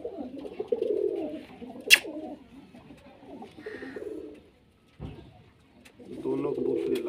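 Two pigeons of a working breed coo in low, throaty rolling phrases close by, with a brief sharp click and a short pause between bouts, while someone talks intermittently.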